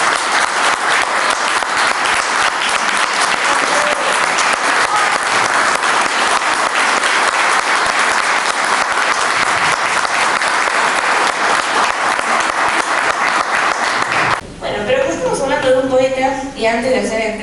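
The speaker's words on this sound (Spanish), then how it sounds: "quería pedirle que le demos un fuerte aplauso a Jorge porque se lo merece." Sustained, loud audience applause at a book presentation event, dense clapping for about fourteen seconds before it cuts off and a voice begins speaking.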